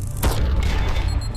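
A single sharp, booming gunshot from a trick shot in the VR game Sairento VR, close and loud, with a short rumbling decay.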